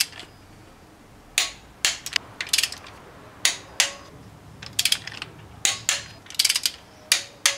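Torque wrench ratcheting on head gasket bolts during a head gasket replacement, making repeated sharp metallic clicks in short bursts with brief pauses, close and clear with no talk.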